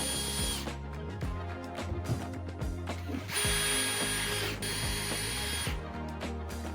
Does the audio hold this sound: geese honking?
no